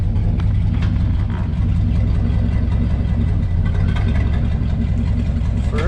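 A 1984 Chevrolet K20 farm truck's engine idles evenly and loudly nearby, a steady low rumble with a constant throb throughout.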